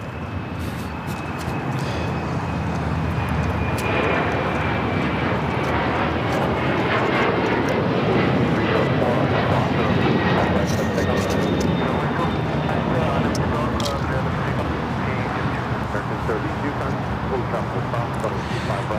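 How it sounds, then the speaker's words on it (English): A Latam Airlines Boeing 767-300ER takes off from LAX bound for Lima, a loud, steady jet engine roar that holds strong throughout with a thin whine above it, and brief voices talking under the noise. "That is Latam Airlines 2479 taking off to Lima on the 767-300ER"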